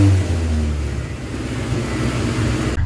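A 1991 Honda CRX HF engine running in 5th gear at about 3,000 RPM and 100 miles an hour, a steady loud mid-pitched drone with road noise, close and without speech.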